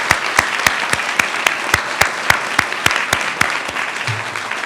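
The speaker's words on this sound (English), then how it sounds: "Let's give them another round of applause." An audience at a county school board meeting applauds commended students with sustained, even clapping, while one nearby clapper stands out with sharp, regular beats, roughly three per second, through the whole round.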